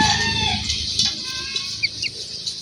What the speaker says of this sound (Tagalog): Ito po yung anak ng apo ng manok ni Luloy.